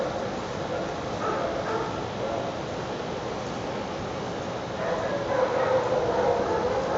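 A dog barks during a behaviour evaluation, the barks fairly faint and set against a steady background rumble, a bit louder near the end.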